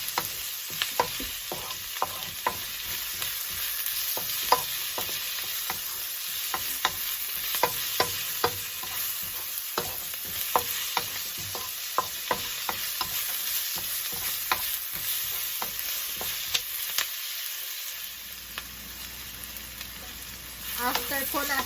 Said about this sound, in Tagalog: We're gonna saute the onion with the garlic.